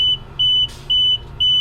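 A network device alarm beeps loudly in a steady repeating pattern, four sharp high electronic tones at even intervals with a brief noise burst between two of them, no talking.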